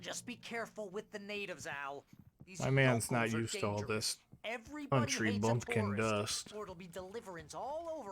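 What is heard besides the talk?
No distinct noise like a dog, phone or traffic.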